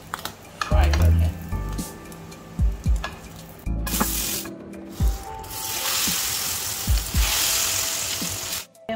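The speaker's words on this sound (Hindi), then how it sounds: "हमारे रोल्स अच्छे से फ्राई हो गए" French toast roll-ups with Nutella frying in a pan, a close sizzle that swells and fades as rolls are turned, with several knocks and scrapes of utensils against the pan.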